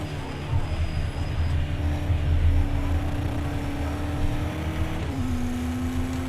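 A steady Porsche engine drone in a racing video game holds a constant pitch, then drops abruptly near the end as if shifting gear; thin and buzzy rather than powerful.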